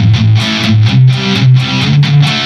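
Electric guitar played through the distortion effect of a NUX Mighty Plug MP-2 headphone amp plug: loud, thick, sustained distorted chords re-struck in a steady rhythm, close and alone.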